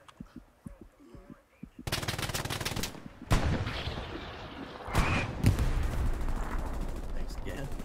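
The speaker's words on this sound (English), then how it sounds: "We've got to get rid of that MG." Machine gun fire in a World War II combat video game set during an Allied assault on Sainte-Mère-Église, a loud sustained rattling burst with heavy thumping impacts and explosions, voices heard over the battle.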